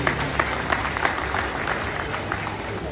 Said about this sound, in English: I want you to give a big round of applause to Fresno Center and Pao Yan for their contr